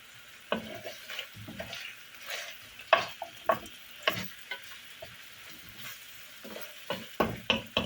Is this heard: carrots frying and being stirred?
yes